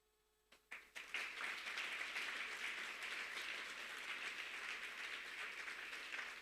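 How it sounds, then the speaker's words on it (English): An audience at a corporate trust launch event breaks into sustained applause after a brief quiet start, a dense, steady wash of many hands clapping that holds at an even level throughout, with no talk over it. "We clap for you, the FAs that have been invited today."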